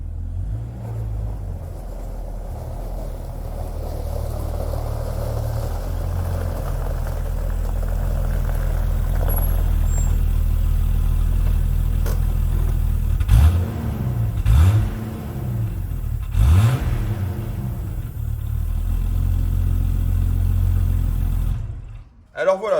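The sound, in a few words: Jeep Cherokee XJ engine revving, exhaust sound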